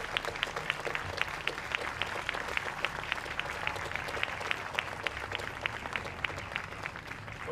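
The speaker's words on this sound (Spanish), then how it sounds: "Un aplauso para Francisco," An audience applauds Francisco Evangelista at a public event in Salto, with steady, moderately distant clapping and sharp individual claps standing out, running unbroken from start to finish with no voices over it.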